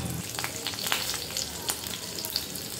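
A slit green chili fries in hot oil with fennel seeds and curry leaves, a loud, continuous close-up sizzle with scattered pops and crackles and no talking.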